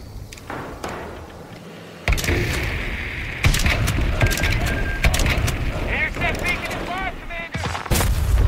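Artillery indirect fire in the Company of Heroes 3 strategy game: a sequence of sudden loud booming impacts and blasts, the first after a quieter lead-in, followed by sustained rumbling battle noise with scattered crackles and brief voice lines.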